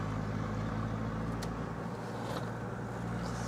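A Jeep engine idles steadily just after its timing belt was replaced, a low continuous hum with engine harmonics holding at an even level throughout, close by and with no talk.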